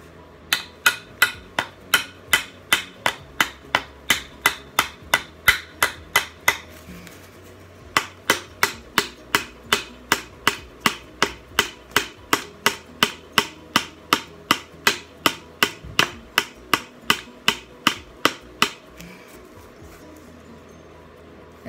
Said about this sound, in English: I'm gonna use a hammer because my mallet is way too big.